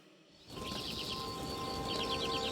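Small birds chirp and twitter at dawn, a steady layer of high calls over a continuous low background hum, moderately near and fairly quiet.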